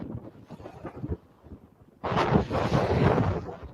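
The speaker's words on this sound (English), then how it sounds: "Windy out there today." Gusting wind buffets the microphone outdoors on a march east of Moose Jaw, a low rumbling roar that starts moderate and turns loud and steady partway through, with no talking.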